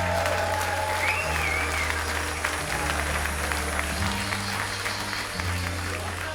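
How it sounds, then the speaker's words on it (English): A comedy club audience applauds as a stand-up comedian is introduced, a moderate, steady patter of clapping over a low background hum, lasting several seconds. "Thank you for the medium amount of applause."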